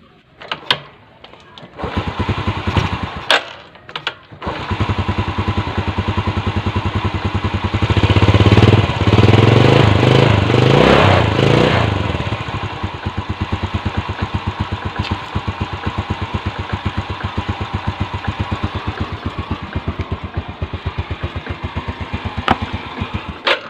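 A Honda Vega R motorcycle engine just back from carburetor service starts and idles with a steady rapid putter, revving up loudly for a few seconds before settling back to an even idle, close by.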